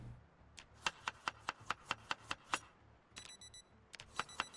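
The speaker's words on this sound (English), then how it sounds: "Let's turn off our alarm." A game alarm clock in Project Zomboid rings with a rapid series of sharp, evenly spaced metallic beeps, followed by a brief electronic tone and a few more rings, fairly quiet and alone.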